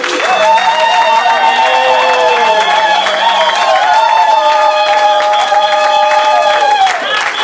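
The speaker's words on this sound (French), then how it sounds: "Acclamons très fort et applaudissons." A church congregation cheers and applauds loudly and continuously, a dense wash of clapping and raised voices with music-like tones running through, dropping away near the end.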